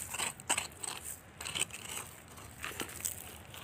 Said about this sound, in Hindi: ये खाद डालेंगे।